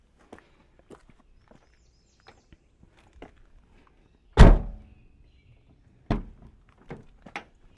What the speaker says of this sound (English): I'm going to shut my door and allow it to sort of self-center on there